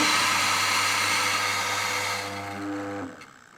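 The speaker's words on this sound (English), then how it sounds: "Chuck that into your grinder" Mahlkonig E80S espresso grinder running loud and steady while grinding cleaning tablets, its motor whine then winding down and stopping near the end.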